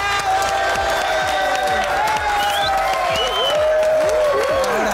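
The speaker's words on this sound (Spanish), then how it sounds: "¿Por qué no le damos la bienvenida con un fuerte aplauso a Sofía Castro?" A TV studio audience on a Mexican variety show gives a loud, continuous round of applause with cheers and whoops mixed in, welcoming a guest, while music tones play underneath.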